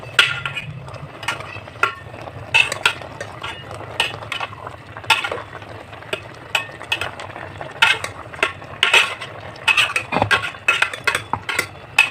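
A pot of boiling fish tinola soup with cabbage gets stirred, with repeated close clinks and scrapes of a utensil against the pot over a low, bubbling background.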